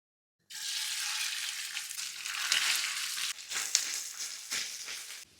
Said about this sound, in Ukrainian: як я смажу м'ясо до тушкованої капусти, я зараз його виставив на сковорідку